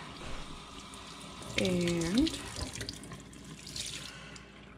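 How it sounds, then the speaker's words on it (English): Tap water runs into a sink to rinse hand-spun yarn, a steady splashing stream that starts abruptly and lasts about a second, then fades to softer trickling and drips, with a brief spoken word. "We rinse off our yarn."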